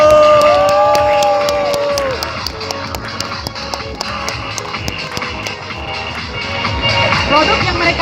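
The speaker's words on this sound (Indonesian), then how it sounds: "Beri aplaus yang meriah." Audience clapping and cheering at an anniversary celebration in Aceh Tamiang, a steady crowd roar with rapid hand claps and a person speaking over it, while a tonal sound rises and falls early on.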